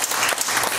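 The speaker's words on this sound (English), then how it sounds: "Give him a hand clap this morning." A church congregation claps by hand during a morning worship service, a dense, steady burst of many hands close by, brief and without pause.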